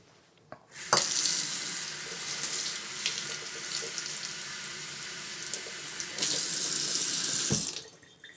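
Water gushes steadily from a tap, a loud continuous rush that runs for several seconds before shutting off.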